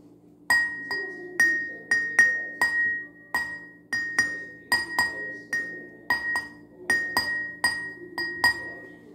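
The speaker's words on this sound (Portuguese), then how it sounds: "Hoje eu vou fazer um piano com um copo de vidro com água." Glass cups filled with water ring out as they are tapped like a piano, a bright melodic run of about twenty clear clinks at varying pitches, each note sharp and decaying quickly, close and alone.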